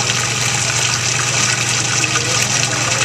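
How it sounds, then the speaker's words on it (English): A runny liquid pours steadily from a spouted container into a measuring cup, a continuous trickling splash heard close up without talk. "So Kim, start to pour, and I'll show you when."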